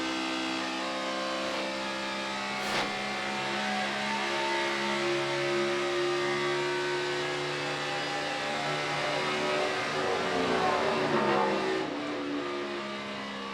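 A NASCAR stock car at Michigan International Speedway, its engine revving as the throttle comes up early, a sustained loud buzzing whine that rises in pitch and holds steady, no voices over it.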